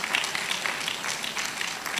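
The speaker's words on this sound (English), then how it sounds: "A big, big round of applause for him for that lecture." Applause from an audience at a law week event in Yenagoa after a lecture by a medical director, a steady, moderately loud patter of many hands clapping for a couple of seconds with no voices over it.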